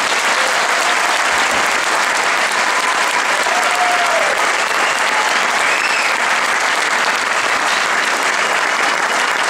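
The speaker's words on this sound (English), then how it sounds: "They deserve another round of applause." Sustained, dense applause from a large crowd at a high school marching band show fills the whole stretch, steady and loud without a break.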